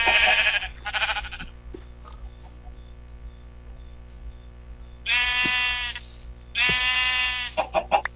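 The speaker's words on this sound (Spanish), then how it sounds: "Oveja, oveja, ¿dónde vas?" Sheep in the video game Minecraft bleating in several short, fairly loud bursts, separated by quiet gaps, with no talk over the calls.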